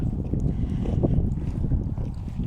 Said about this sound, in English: And now that we're out, it's pretty breezy.